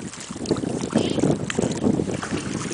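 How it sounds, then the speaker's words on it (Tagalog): Strong wind roars and buffets the microphone steadily in Pampanga, Philippines, with a broad rushing noise and faint water or engine hum beneath. "Lakas ng hangin dito."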